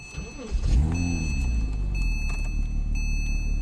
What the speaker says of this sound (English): We must now switch the car on